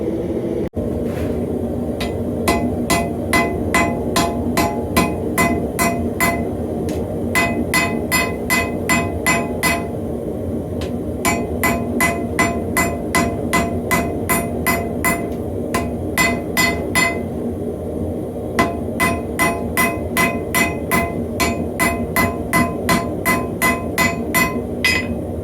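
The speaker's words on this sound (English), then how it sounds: "we're just going to start forging this down into a square billet" Damascus steel made from layered saw blade being hammer-forged into a square billet: loud, rapid rhythmic ringing hammer blows in bursts over a constant background roar, with short pauses between volleys.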